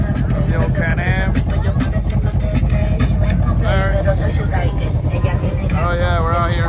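Polaris off-road vehicle engine running steadily through a ride, a loud continuous motor drone with shifting revs, while people talk and shout over it.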